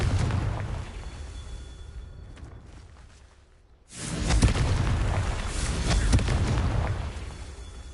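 A fiery blast from a Confringo spell in a Harry Potter video game: a rumbling build that fades to near silence, then a loud, sustained explosive roar lasting several seconds, with no talk.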